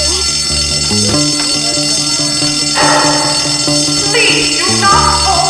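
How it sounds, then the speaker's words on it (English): Fire alarm bell ringing loudly and continuously in the school of the video game Bully, a steady electronic clang that stays up front, with game music and faint background sound beneath. "Please do not pull the fire alarm!"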